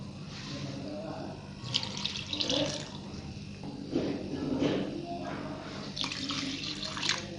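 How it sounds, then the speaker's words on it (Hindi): Water poured into a bowl of rice flour for homemade kurkure batter, a splashing, trickling pour in a kitchen, fairly close, heard in bursts with faint background noise. "अब यही 2 प्याली हम पानी की इसमें ऐड"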